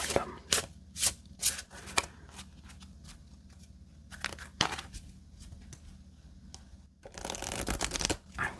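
Jumbo playing cards are shuffled up close in a quiet room, giving a series of crisp riffling bursts followed by a longer riffle toward the end, with soft pauses between them.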